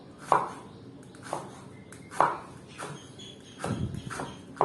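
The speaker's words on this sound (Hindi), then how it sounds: "अब हम हरी मिर्च को गोल शक्ल में काटेंगे इस तरह।" Green chillies are sliced into rounds on a cutting board, each knife stroke a distinct close tap, about six evenly spaced chops with quiet pauses between.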